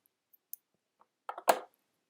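Scissors snipping a yarn tail on a crocheted amigurumi persimmon: a few faint clicks, then one close, sharp cut in an otherwise silent room.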